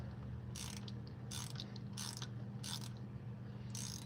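A ratchet wrench loosens the cylinder head bolts on a worn Chevy 305 V8 from an El Camino: five quick bursts of sharp clicking separated by short pauses, close up over a low steady hum.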